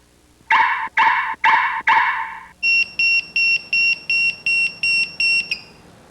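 A 1991 Alpine 8200 car security alarm sounds four loud buzzing chirps, then a faster series of about nine shorter, higher electronic beeps, close and alone.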